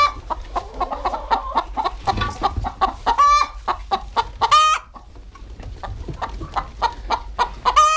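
Hens and young pullets on a farm cluck repeatedly in a lively, close series of short calls, with a few drawn-out squawks among them.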